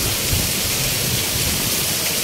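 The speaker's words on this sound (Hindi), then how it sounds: "इधर देख सकते हो पूरा बारिश बारिश" Heavy monsoon rain pours down in a dense, continuous hiss that stays loud and even throughout, with no voices over it.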